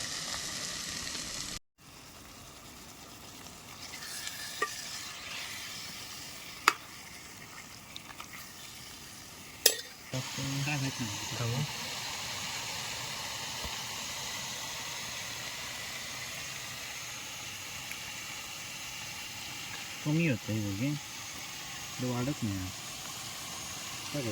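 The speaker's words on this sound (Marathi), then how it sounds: "चिकन आपण इकडे फोडणीत घातलं" Chicken hits hot tempering oil in a pan inside a tent during night camping in a forest, giving a steady hissing sizzle with a few clicks and bursts of voice in the background.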